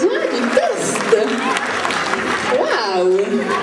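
Children's presentation audience clapping and cheering, a busy wash of applause with voices and excited calls rising over it, fairly loud and continuous for a few seconds.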